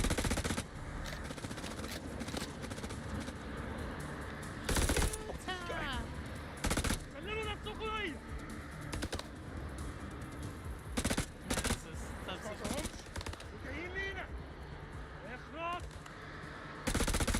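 Repeated gunfire bursts from a film scene, sharp broadband cracks scattered through the clip over music and background noise, with voices talking in between.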